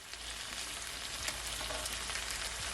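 Pepper steaks sizzling in a hot pan as they are flipped, a dense, even crackle of frying fat close by with faint scraping, continuous and fairly quiet.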